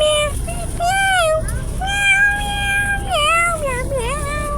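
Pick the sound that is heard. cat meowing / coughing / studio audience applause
cat meowing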